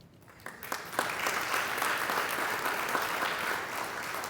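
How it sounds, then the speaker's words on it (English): Applause from a dinner crowd at an award gathering swells in after a brief quiet start, becoming a full, even wash of many hands clapping that carries on to the end. "you can also applaud."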